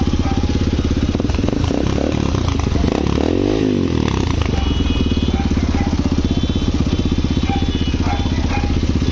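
A MotorStar Explore 250 v2 motorcycle engine idles loudly and steadily through its stock exhaust pipe, with a brief revving swell partway through, close up and continuous.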